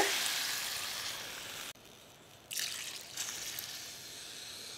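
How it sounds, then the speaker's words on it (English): Two cups of water poured into a pot of rice in a home kitchen, a steady hissing pour that cuts off abruptly, then resumes in softer splashing bursts, fairly quiet with no talk. "Then you're going to add in 2 cups of water."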